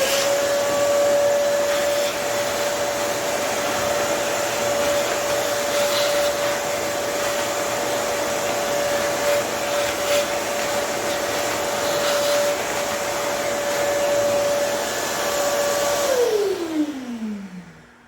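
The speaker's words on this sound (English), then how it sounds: "we can just go ahead and take a vacuum and vacuum that up." Vacuum cleaner sucking dust out of the engine air filter housing of a Mercedes 3.0 V6 twin-turbo, a loud steady whine for about sixteen seconds that winds down as the motor switches off.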